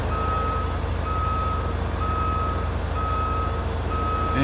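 A truck backs up in the video game Roadcraft, its reversing alarm beeping at an even pace about once a second over a constant low engine drone.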